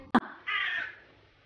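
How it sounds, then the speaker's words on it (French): A crow gives a single loud, harsh caw up close, a short sharp burst followed by a longer raspy call that trails off into quiet. "Merci le corbeau."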